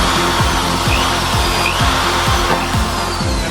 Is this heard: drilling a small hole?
yes